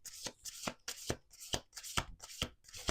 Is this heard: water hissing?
no